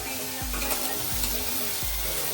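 Onion and tomato cooking in a pan give a steady close sizzle with soft stirring, alone without talk.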